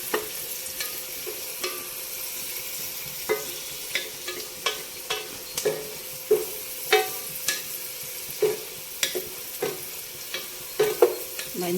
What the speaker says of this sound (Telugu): కరివేపాకు, బాగా ఎర్రగా వేగాలి.